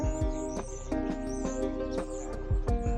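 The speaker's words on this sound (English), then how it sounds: "All those birds. I don't know if you can hear them chirping." Small birds chirp and tweet in quick, repeated high calls over a dense hum of background noise, fairly close, with no talking.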